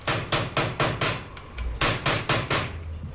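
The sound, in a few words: hammer and chisel chasing a metal plate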